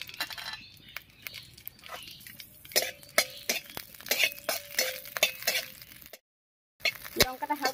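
Whole green chillies fry in hot oil in a kitchen pan for a Bengali ash gourd dish, with a soft sizzle under repeated sharp scraping and stirring clicks of a utensil against the pan.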